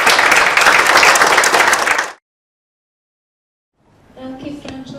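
A group at an awards ceremony bursts into loud, dense clapping for about two seconds, then falls silent, followed by a few faint sounds.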